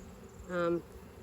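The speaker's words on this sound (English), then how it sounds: "They're very, very nice bees." A low honeybee buzz hums steadily throughout at an open hive, swelling into a louder, close buzzing burst midway before settling back to the background drone.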